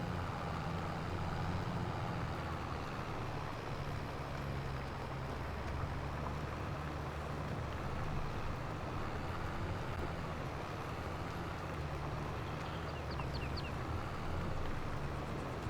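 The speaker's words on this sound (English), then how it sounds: "a tractor like this T8 could be on full plowing duty throughout the season" A Case T8 tractor in Farming Simulator 22 running steadily, a continuous low engine rumble and drone holding at an even level throughout with no talk over it.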